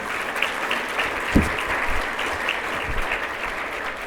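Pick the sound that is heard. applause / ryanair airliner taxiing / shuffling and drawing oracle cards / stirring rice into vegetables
applause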